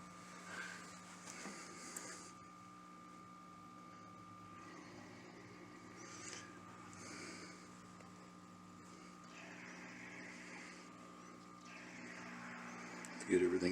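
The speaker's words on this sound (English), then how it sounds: "Gets the pump going over here." A pump runs steadily with a continuous mechanical hum and a few faint clicks, holding a fairly even level throughout until a brief louder burst at the very end.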